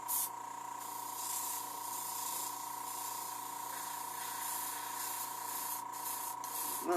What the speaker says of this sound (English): It's really difficult with this airbrush